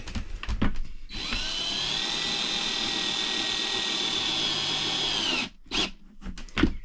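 A power drill runs one long steady whine for about four seconds, driving large 6 mm screws to fix wooden battens into a van's bed frame. Short knocks and handling noises come before and after it, with no talk.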